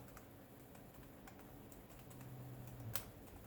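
Password being typed on a Lenovo laptop keyboard, with a sparse run of light key clicks spread over a few seconds, faint and close against a steady background hum.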